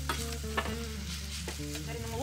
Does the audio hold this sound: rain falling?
no